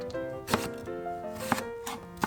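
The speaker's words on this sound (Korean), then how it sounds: "오이 1개 채 썰어줍니다" A knife cuts one cucumber into thin strips on a cutting board, three sharp, evenly spaced chops about a second apart, close and clear, over soft background music.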